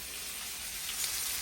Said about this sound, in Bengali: চিংড়ি মাছ দিয়ে আলু ভাজি